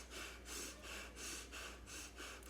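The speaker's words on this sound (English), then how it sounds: "And just breathing like that, it's like giving ourselves a low-grade panic attack throughout the day." Rapid chest breathing that models a shallow, panicky pattern: repeated quick breathy inhales and exhales in a steady rhythm, close and fairly loud, with no talking.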